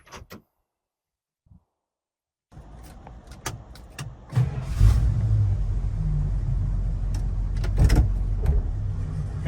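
A 1969 Dodge Charger Daytona starts after a few faint clicks and a door sound, its engine rising into a deep, loud rumble as it pulls away, with sharp knocks and clunks over the idle.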